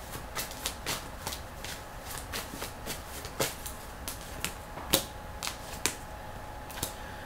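Tarot cards shuffled by hand at close range during a reading, a quick irregular series of crisp riffling flicks and taps, about a dozen distinct bursts, with no talking.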